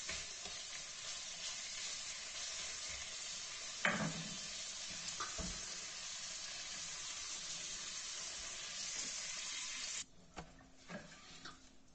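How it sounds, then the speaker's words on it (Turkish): Liver frying in oil in a pan, a close, continuous sizzle with a couple of sharp knocks from a utensil, the sizzle dropping away near the end to quieter scattered clatter. "Diğer yarım kalanı kavuracağız."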